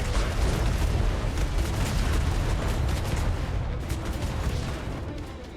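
Ship cannons firing in a naval video game, a dense rolling roar of booms that runs loud and continuous before easing off slightly at the end.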